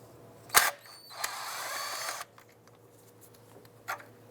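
A ratchet working a 10mm nut on the valve cover of a 2001-2007 Ford Escape: a sharp click, then a short run of fast ratcheting pawl clicks, a pause, and one more close tap.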